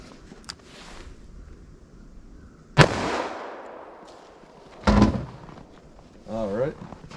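A single loud .357 Magnum revolver shot cracks close by into a ballistic gel target, followed by a second sharp bang and some rustling, with scattered speech around them.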